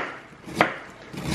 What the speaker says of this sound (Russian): Это редька, просто ее чистим, нарезаем слайсами вот такими.